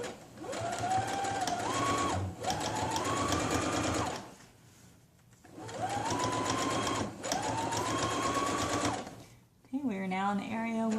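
A sewing machine back stitches elastic on a cloth diaper shell, running in two pairs of steady whirring bursts with short pauses between them, close and clear, followed by someone speaking.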